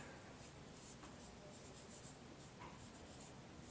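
A pen scratches steadily across a surface while drawing a line in a class, a faint continuous scratching with no talk.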